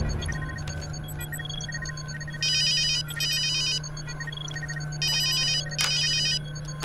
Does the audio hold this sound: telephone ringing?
yes